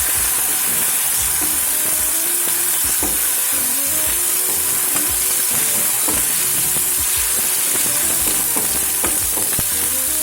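Chopped onion and tomatoes sizzle and fry in a pan for a Gujarati urad dal, a continuous close hiss with scattered stirring scrapes and small taps throughout.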